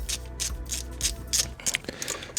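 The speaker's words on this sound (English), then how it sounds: "It's 2 7mm bolts you have to undo and pull that vacuum line off" A hand ratchet loosening two 7mm bolts on a Ford engine, close rapid clicking bursts of the pawl in a quick back-and-forth rhythm, growing more irregular toward the end.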